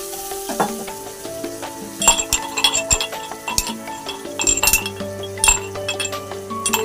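Crushed ginger and garlic hit a pan of sautéing onions and sizzle steadily, with bright metal clinks and scrapes from stirring layered over the frying.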